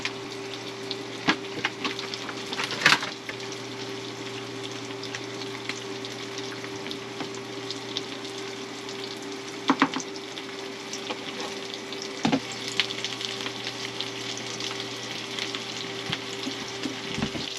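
Pasta tossed into a pan of sizzling garlicky Brussels sprouts gives a steady close fry hiss, with a few sharp clatters and stirring scrapes scattered throughout.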